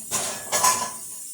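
Dishes and cutlery rattle and clatter close by while being washed before going into the dishwasher, two short bursts of clinking ceramic and metal with no speech.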